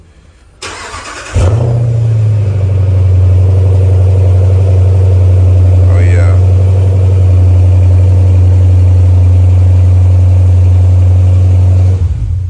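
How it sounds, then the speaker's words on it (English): A 2017 Dodge Durango R/T V8 with an X-pipe and Flowmaster exhaust cold-starts, cranking and firing with a loud burst, then settles into a deep, rumbling idle that holds steady; a man briefly exclaims partway through. "this is gonna be a cold start with the Xpipe"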